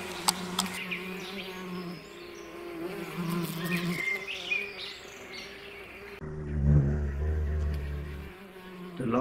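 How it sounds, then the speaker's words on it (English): A tree bee collecting pollen from a granny's bonnet flower, its buzz wavering near and far in the open air, steady and moderately loud with a louder, lower-pitched pass late on. "Here's one of the tree bees from the hive collecting pollen from old Granny's bonnet plant to take back to the nest."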